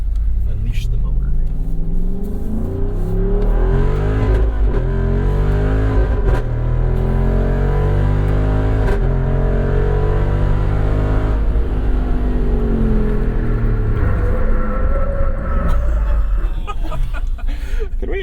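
A 2024 Jeep Wrangler 392 with a V-8 engine, heard from inside the cabin with the sky roof closed, roars loudly through a long, steady full-throttle acceleration, its engine note climbing through the gears.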